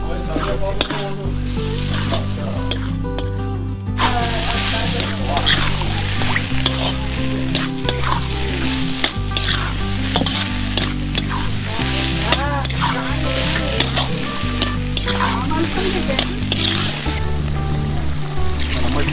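Spiced masala of ginger, garlic, cumin, coriander, black masala and red chilli sizzles and fries loudly in a pan over a wood-fired chulha at a plateau campsite, a dense continuous crackle with stirring throughout and some voices in the background.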